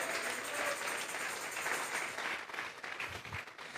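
A church congregation applauds during a sermon, dense sustained clapping from many hands that fills the space evenly and thins slightly toward the end.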